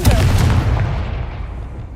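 The Confringo fire spell in Hogwarts Legacy goes off as one loud, close blast with a deep boom that fades over about two seconds.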